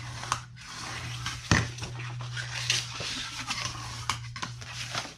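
A big spatula folding and burnishing scored paper pieces for a faux quilted box top, making soft scraping and rubbing strokes with a few sharper taps over a steady low hum.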